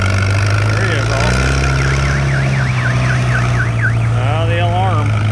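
An alarm wails in a rapid rising-and-falling siren pattern over a steady engine hum at an antique tractor pull, loud and continuous throughout.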